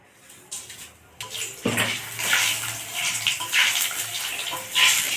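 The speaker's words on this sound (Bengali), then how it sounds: "এবার তেলের মধ্যে ফোড়ন দেবো আমি গোটা শুকনো লঙ্কা তেজপাতা গোটা গরম মশলা গোটা জিরে" Whole dried red chillies, bay leaves, whole garam masala and cumin seeds sizzle in hot oil as a tempering for a Bengali yogurt katla fish curry. A loud, steady frying hiss bursts in early and keeps crackling throughout, with no talk.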